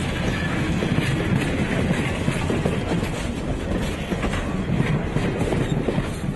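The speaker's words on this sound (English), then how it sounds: "it sounds like the train is picking up speed a little bit" A train led by an Alco RS-32 diesel locomotive rolls past near a crossing and gathers speed, with a steady rumble and dense clickety-clack of wheels on rail, loud and close.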